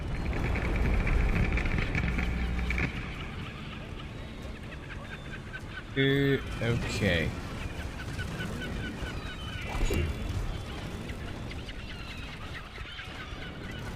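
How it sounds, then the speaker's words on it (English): Gulls call in the Brütal Legend video game, with a couple of brief, harsh squawking cries around the middle over a steady noisy game background, and a single word is spoken. "Can you shake those gulls?"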